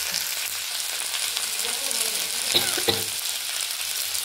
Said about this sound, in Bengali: ফুলকপি ভাজা বসিয়ে দিয়েছি, এটা হতে থাকুক।